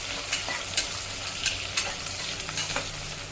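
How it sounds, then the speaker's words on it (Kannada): Chopped medium-sized onions fry in a pan with a dense, steady sizzle, broken every half second or so by the scrape of a spatula stirring them, close and loud. "ಈಗ ಈರುಳ್ಳಿ ಹಾಕ್ತಿದ್ದೀನಿ. 2 ಮೀಡಿಯಂ ಸೈಜ್ ಈರುಳ್ಳಿ ಹೆಚ್ಚಿಟ್ಕೊಂಡಿದೆ. ಸ್ವಲ್ಪ ಕೆಂಪಗಾಗಲಿ."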